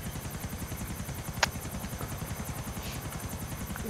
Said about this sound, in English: Is Caleb driving his plane to the ground